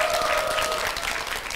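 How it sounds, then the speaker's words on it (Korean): Studio audience applauds in a television health talk show, a dense, steady wash of clapping from the crowd with no break throughout. "박수로 맞아주십시오."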